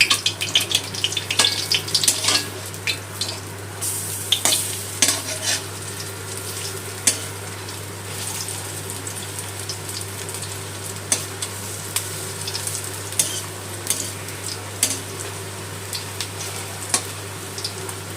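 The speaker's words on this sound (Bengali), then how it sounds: "বড়ার অপর দিকটাও ভেজে নেবো।" Masoor dal fritters fry in hot oil, a continuous sizzle with a low steady hum beneath, punctuated by scattered clicks and scrapes of a utensil turning them, busier at first then settling; no one speaks.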